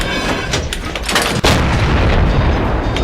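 A T67 tank gun fires a shell in a video game, a loud booming shot cracking out over continuous game rumble, with a sharp blast near the middle.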